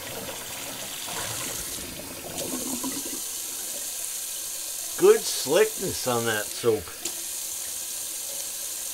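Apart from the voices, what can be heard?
tap water running for a cold water rinse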